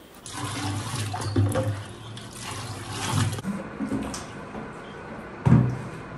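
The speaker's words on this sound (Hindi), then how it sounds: "अब इसको हमने मग से अच्छी तरह से मिक्स कर लेना है।" Water sloshing and splashing as vinegar is stirred into a bucket of water with a mug for cleaning bathroom tiles, with uneven swishes and a sharper knock of the mug near the end.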